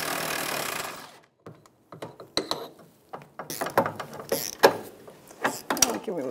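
A socket wrench ratchets a 16 mm sway bar link nut on a 2009-2014 Nissan Maxima rear suspension, giving close, irregular bursts of quick clicking with short pauses between turns and no talking.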